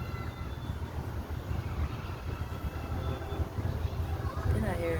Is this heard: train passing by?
yes